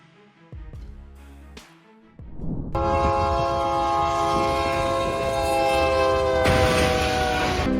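A train approaches a railway crossing, its loud sustained horn blaring with rich stacked tones over the rumble of the cars, starting after a few brief clanks and swelling louder toward the end, with no voices.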